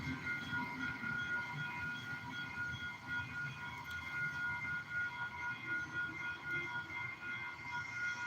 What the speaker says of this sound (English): that's the train you hear in the background.